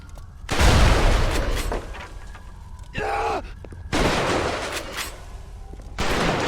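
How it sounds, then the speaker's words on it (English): Shotgun blasts from the video game Bioshock, several loud heavy bursts separated by short pauses, with a brief groan-like enemy sound between them. "Shotgun. Just blast him."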